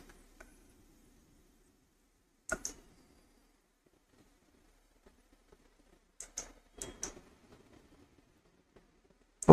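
Computer mouse clicking during SOLIDWORKS sketch work, with a few soft, close clicks in small bursts separated by near silence.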